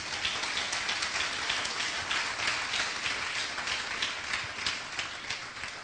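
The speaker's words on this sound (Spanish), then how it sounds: "Den un aplauso al Señor." A church congregation claps in praise during a Spanish-language sermon, a steady dense wash of many hands sustained at even loudness throughout, without any voices rising above it.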